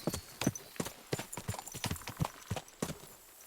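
A horse's hooves clip-clop at a steady walking rhythm in the medieval game Kingdom Come Deliverance 2, crisp and close with evenly spaced strikes.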